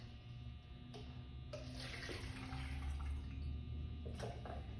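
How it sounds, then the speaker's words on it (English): Water is poured off a container of tomatoes, a steady soft trickling and splashing that runs the whole time at low level with occasional sharper drips and clinks, and no one speaks. "So I'm gonna pour the water off of our tomatoes here."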